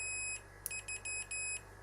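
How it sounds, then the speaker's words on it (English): A multimeter set to continuity test gives several short high electronic beeps in quick succession as a circuit is completed, close and fairly quiet over a steady low background hum, with no talking. "setting your meter to a beep test, which basically, when you complete a circuit,"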